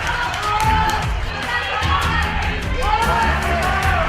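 Boxing arena crowd in a bout between Tsuchiya and Ricky Sismundo shouting and cheering continuously, a dense roar of yells and whoops that swells and dips without pause.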